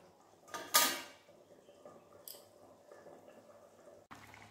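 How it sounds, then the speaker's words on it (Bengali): Meat curry gravy simmering in a pot on a gas stove, a faint low bubbling texture with a brief sharp clatter of utensils early on and another light clink later. "এই দেখুন বন্ধুরা, ঝোল ফুটে উঠেছে।"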